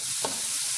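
Bacon fries in a pan with a thin drizzle of oil for baião de dois, producing a brief, steady, soft sizzle with a faint stir.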